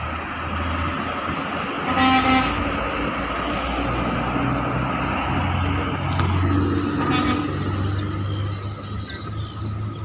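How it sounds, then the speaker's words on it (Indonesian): A long, wide modified Vespa truck with two engines, only one running, keeps up a steady low mechanical drone outdoors, broadband and continuous, with faint passing traffic layered over it. "Ini mesinnya ada dua. Satu. Satu yang hidup."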